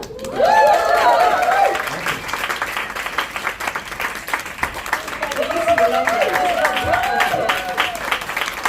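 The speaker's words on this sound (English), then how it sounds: "if you could get another rowdy round of applause" Rowdy audience applause and cheering for cast members at a Grease immersive cinema launch event, loud and sustained, with whoops and voices rising over the clapping.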